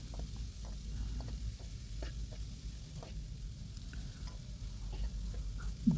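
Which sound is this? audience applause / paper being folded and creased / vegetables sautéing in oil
vegetables sautéing in oil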